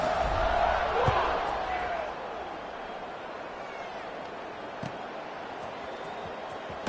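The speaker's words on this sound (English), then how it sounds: "this crowd now ready to get behind them." A stadium crowd roars in a college football video game as South Carolina lines up to kick off at Old Dominion. The broad, steady cheering is loudest at the start and settles into a sustained background roar.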